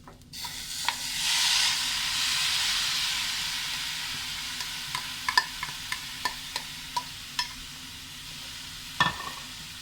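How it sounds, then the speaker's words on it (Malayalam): Carrots stir-fried in a hot pan for a dry Kerala thoran, a steady sizzle and hiss swelling early, then a run of sharp spatula scrapes and taps against the pan toward the end, no voices. "ഇനി ഇത് നല്ലപോലെ ഒന്ന് മിക്സ് ചെയ്തെടുക്കാം"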